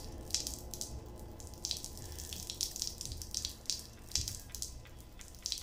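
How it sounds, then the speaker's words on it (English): Water rushes and gurgles from a toilet flushing in a video game. The flow is faint and steady, with small splashes and drips running through it, and no one speaks. "Should we flush it again?"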